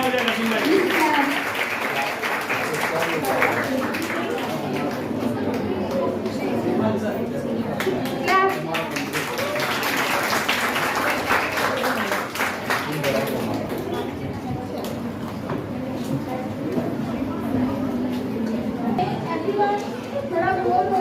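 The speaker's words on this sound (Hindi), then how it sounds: "तालियां हो जाए नसीम भाई." Audience applause at a Silent Helpers Foundation competition and felicitation programme: sustained crowd clapping that swells and eases, mixed with chatter and children's voices throughout.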